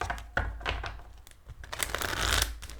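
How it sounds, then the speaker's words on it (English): Tarot cards are shuffled by hand in quick, irregular bursts of crisp flicking and riffling, close up, with no speech. "Do some shuffles here."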